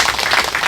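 Audience applause breaking out at a farming education lecture on apple cultivation, a dense, steady patter of many hands clapping together, sustained and fairly loud throughout the short burst.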